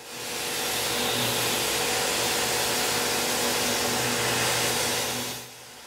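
A CNC mill running at 7500 RPM cuts a 3D adaptive toolpath to clear part corners, producing a loud, continuous whirring roar with a faint tonal hum that holds steady, then cuts off just before the end.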